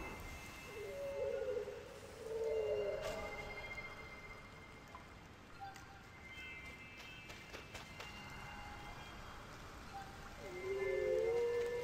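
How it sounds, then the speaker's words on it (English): Soft, steady rain falling in the video game Sky: Children of the Light, a faint continuous patter beneath light footsteps and occasional gentle chime-like tones. "We'll be walking through a bit of rain."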